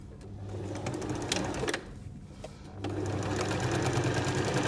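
A sewing machine stitches the final side of a cutlery pouch made from a napkin, a close, steady whirring run that pauses briefly midway, then resumes.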